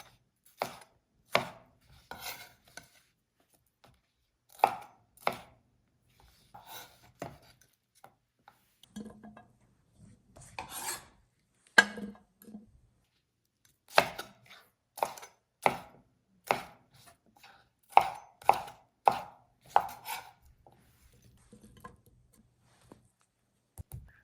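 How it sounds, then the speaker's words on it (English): A knife chopping across pepper strips on a cutting board, a long run of sharp distinct knocks in an uneven rhythm, sometimes in quick clusters, close and clear against near silence. "Finally, we're going to cut across the strips."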